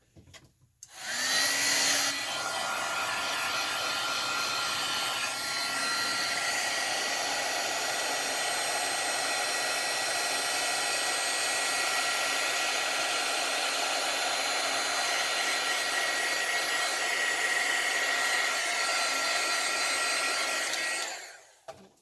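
A heat tool blows with a loud, steady whoosh at close range, melting teal embossing powder for a craft invitation, running continuously for about twenty seconds before cutting off.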